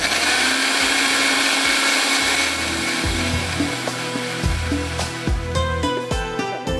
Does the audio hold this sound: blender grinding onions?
yes